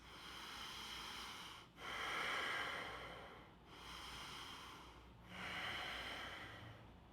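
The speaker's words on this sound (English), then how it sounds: "Give it 3 more deep, full breaths." Slow, deep, full breaths during a yoga pose, four long airy inhale-exhale cycles, close and soft with brief pauses between them; no talking.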